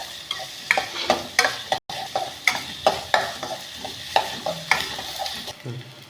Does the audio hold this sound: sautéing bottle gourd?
yes